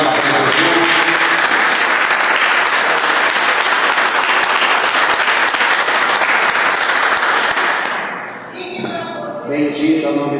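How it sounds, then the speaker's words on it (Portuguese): A church congregation gives loud, sustained applause for Jesus during a worship service, dense clapping filling the room before fading out, with a few voices and a sharper sound near the end. "Quem pode dar uma salva de palmas para Jesus?"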